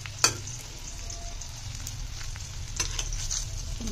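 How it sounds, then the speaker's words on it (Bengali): Onion and chicken pakoras fry in hot oil with a steady close sizzle, a sharp clink near the start and a few soft utensil taps later, with no talking. "হচ্ছে আমার পকোড়াগুলো ভাজা"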